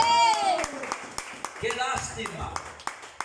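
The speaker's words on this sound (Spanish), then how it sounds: "Denle un aplauso al Señor." A church congregation claps in scattered, uneven bursts while a voice talks over the start, individual hand claps sharp and close, spaced irregularly.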